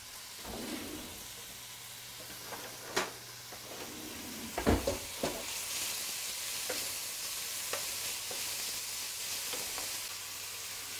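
Pesto-stuffed pork frying in hot oil, a steady broad sizzle running throughout with a few sharp spits and pan knocks, fairly quiet and with no voices.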